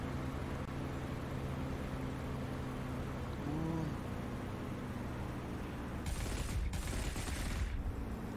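In the DCS flight simulator, a Spitfire and Fw 190A-8 dogfight carries a quiet steady aircraft engine drone, broken late by two short bursts of rapid gunfire and a brief shift in tone, all faint with no talk.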